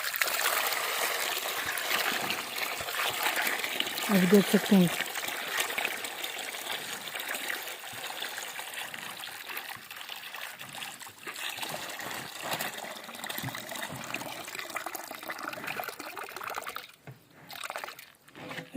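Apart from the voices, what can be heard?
water trickling into a tank as a buffalo drinks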